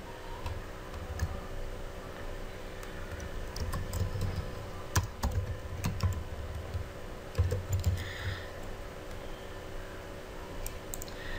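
Keys on a computer keyboard are tapped in quick, uneven bursts with steady close clicking and no voices.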